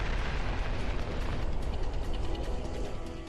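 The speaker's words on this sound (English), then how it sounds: "Then, 9 seconds later, another huge explosion." A huge explosion aboard the supercarrier USS Forrestal (CV-59): a loud, continuous roar that rumbles steadily for a few seconds with no distinct separate blasts and no voices.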